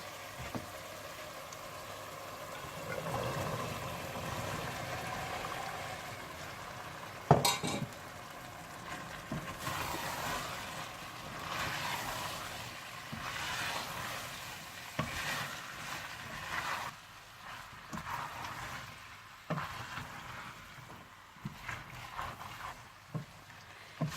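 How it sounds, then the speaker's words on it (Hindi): Boiled black chickpeas roasting in a tomato and onion masala in a pan, a soft continuous sizzle with periodic scraping stirs and occasional sharp clinks of the spoon against the pot, no talk. "जब मसाला तैयार हो जाए तो आप इसमें बॉइल्ड चने डालकर अच्छी तरह से भून लें"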